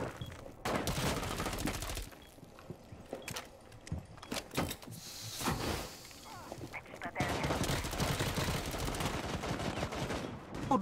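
Rapid gunfire exchanges in the video game Rainbow Six Siege, with dense bursts and scattered single shots mixed with in-game clatter and voices talking over the action.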